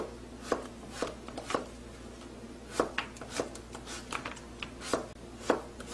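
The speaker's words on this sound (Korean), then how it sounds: "청양고추 얼큰한 거 2개 정도 썰어 넣어주세요" A knife chops Cheongyang chili and zucchini on a cutting board for jjamppong, making close, crisp thuds in short uneven bursts with brief pauses between them.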